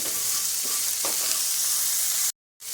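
Salt being stirred into semiya upma in a pan over a loud continuous sizzle, with a few soft spoon scrapes, then a brief dropout of silence near the end.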